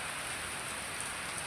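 Heavy rain pours steadily just outside an open doorway, a dense, even hiss of drops striking surfaces with no pauses or voices.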